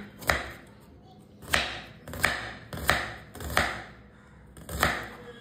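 Knife finely chopping onion on a board, six sharp, evenly spaced chops a little over a second apart, close and clear, each strike ringing briefly before the next, with no talking.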